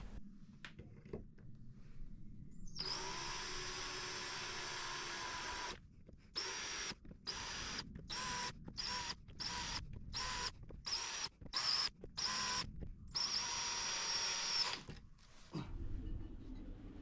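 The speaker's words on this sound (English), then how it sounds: "I'm marking the solid disc with the drill bit" A drill bit marks a solid disc by hand while fitting a boat diesel polishing system and inspection hatches, giving a steady high-pitched whine broken by a rapid run of short stop-start bursts.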